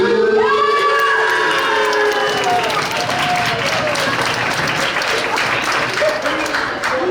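Loud, sustained applause fills a high school volleyball awards banquet, with cheering, whoops and shouts mixed into the clapping and voices talking over it throughout.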